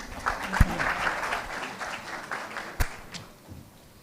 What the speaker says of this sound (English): Big round of applause for Mr. Abhijit